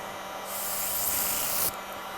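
Paint spray for color matching, aimed at a surface and kept moving: a steady, close hiss of about a second, starting gently and then cutting off sharply, over faint room noise.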